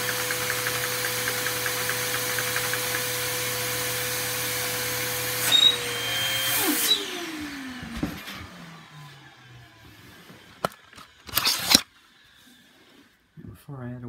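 Lego two-cylinder vacuum-powered engine driving a bus chassis, a steady loud mechanical whir with a rapid rhythmic beat that winds down in pitch, followed by scattered clatter and bumps.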